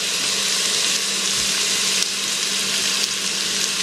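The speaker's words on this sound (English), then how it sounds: "now I'm going to add the garlic. Cook that with Italian seasoning" Garlic with Italian seasoning sizzles steadily in a hot pan. The frying hiss is loud and continuous, with a faint watery crackle running through it and no talking.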